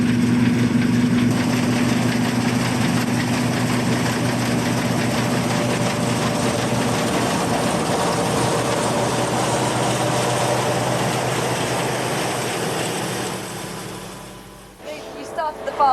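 A farm tractor engine runs at a steady idle out in the open, a loud, constant drone that holds for most of the stretch and then fades away near the end.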